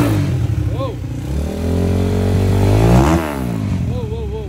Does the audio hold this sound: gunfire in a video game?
no